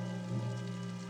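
Steady rain falls under a constant hiss, with soft patter of drops and a low droning hum beneath, close and even throughout, in a wartime battlefield scene.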